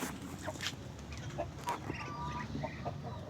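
Several chickens cluck and murmur nearby in short, scattered bursts, a busy coop chatter over a low background hum.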